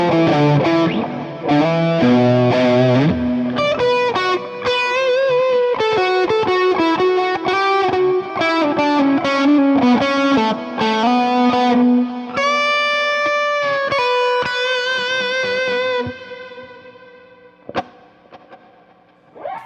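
A Kurzweil rack effects unit adds reverb, routed in series and parallel, to a played instrument; bright sustained notes and chords ring out loudly with washy, echoing tails, then decay into sparse trailing sounds near the end.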